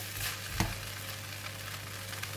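Spicy rice vermicelli (bee hoon) stir-fried with vegetables in a hot pan, a steady loud sizzle with a brief stirring scrape, close and without talking.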